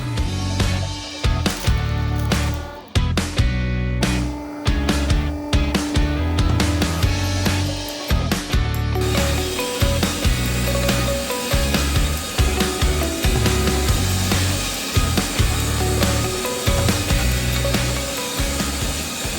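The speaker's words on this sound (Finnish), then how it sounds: "Tässä on meidän saha, eli tää on Wood-Mizer LT40 hydrauliikalla." A Wood-Mizer LT40 hydraulic sawmill cutting logs, with loud, continuous machine roar and repeated clunks and bangs of handling throughout, and the saw's tone shifting partway through.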